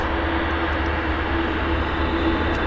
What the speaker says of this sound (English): We've got a heavy here taxing out. Air Canada Dreamliner.